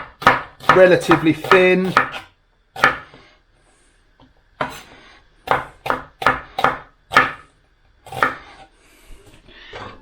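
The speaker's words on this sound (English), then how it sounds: "we're going to slice the onions just lengthwise" A knife slices peeled onion halves lengthwise on a chopping board, making a series of crisp, close chops in uneven bursts. A voice speaks briefly during the cutting.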